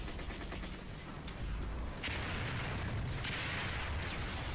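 Napalm mortar explosions in Section 8 Prejudice, dense rumbling blasts and crackling gunfire layered in a busy, distant-sounding battle, with a heavier surge of impacts partway through.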